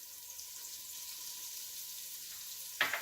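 Red sauce stirred in a pan, giving a steady soft sizzle and bubbling throughout, with a brief louder scrape of the spoon near the end.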